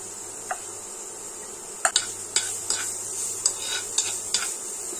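Carrots are stirred with a spoon in hot ghee in a kadai, giving a run of sharp metallic scrapes and clinks over a faint, steady sizzle, with no talk.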